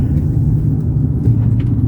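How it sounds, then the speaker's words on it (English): Trucks hauling wood toward a large paper mill in a valley, a steady, loud low-pitched engine rumble heard from inside a moving vehicle, continuous with no distinct events. "there's more trucks bringing in some more wood for it."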